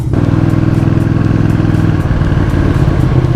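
Motorcycle engine droning steadily at close range while riding through a small village near Castillon-la-Bataille, a loud, even low rumble throughout with no talk.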